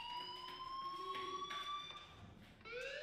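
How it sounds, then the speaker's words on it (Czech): A fire alarm rings with a steady electronic tone that holds without pause for several seconds, set in a school in the video game Life is Strange, with no voices. "Do you hear that fire alarm?"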